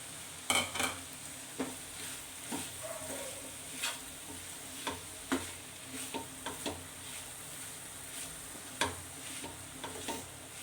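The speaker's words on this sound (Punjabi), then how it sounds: "ਹੁਣ ਆਪਾਂ ਇਹਦੇ ਵਿੱਚ ਘਿਓ ਵਾਲੀ ਛਿੱਡੀ ਮਿਕਸ ਕਰ ਦਵਾਂਗੇ" Ghee chhiddi mixed into roasted spices in a pan for a bhurji, a quiet sizzle punctuated by irregular sharp taps and scrapes of a spoon against the pan.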